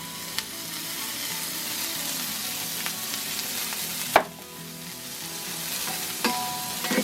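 Vegetables for a Philly cheesesteak sauté in a hot pan, a steady close sizzle and crackle throughout with a few sharp clinks and scrapes of a utensil, one louder knock partway through, no voices.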